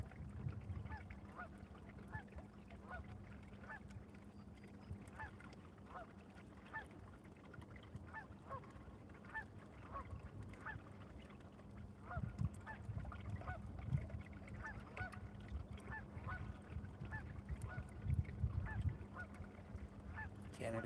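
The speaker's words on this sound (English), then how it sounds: "Canada geese." Canada geese honk repeatedly from a short distance near the water while on a fishing outing, their calls rising and falling over a low steady engine or boat rumble, with a brief voice now and then.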